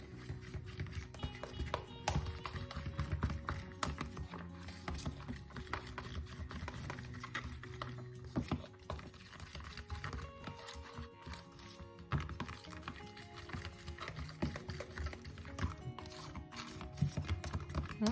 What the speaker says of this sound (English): Take a fork here,